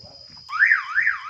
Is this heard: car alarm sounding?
yes